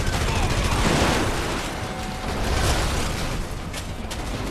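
Gunfire in the video game Red Faction: Guerrilla, a dense loud barrage of overlapping shots with mechanical clatter running continuously throughout.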